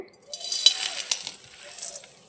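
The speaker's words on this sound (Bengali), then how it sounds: "এখন আমি এর মধ্যে কিছুটা বালি দিয়ে দেব" Sand being added to a hot wok over a lit stove and heated, giving a soft, steady gritty hiss with faint scraping and light clinks throughout, close by with no talking.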